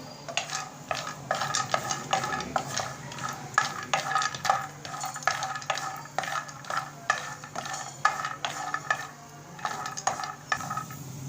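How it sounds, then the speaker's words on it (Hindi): Almonds frying in about a spoonful of desi ghee for khaskhas laddu, a steady soft sizzle broken by repeated scraping and stirring clinks of a spoon against the pan, close and continuous with no talk. "इसमें हम बादाम डालेंगे, इसको भी हमें फ्राई करना है।"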